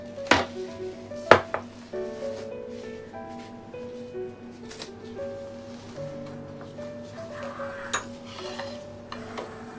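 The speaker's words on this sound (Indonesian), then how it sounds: "Sekarang kita akan potong-potong dulu ini si brisketnya." A knife chops beef brisket into pieces on a board, a few sharp knocks standing out over a steady background hum, with softer cuts scattered between them.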